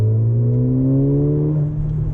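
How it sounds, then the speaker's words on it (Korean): A Mercedes-AMG A45 (W176) hatchback revving, its exhaust giving a loud, close, droning note whose pitch climbs steadily and then levels off, with no talking. "엉 소리가 나면서 일반 승용차에서는 들릴 수 없는 그런 뭐 배기음이 나긴 하지만"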